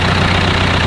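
A classic 90-horsepower tractor engine idles close by, a steady loud diesel rumble with no pauses.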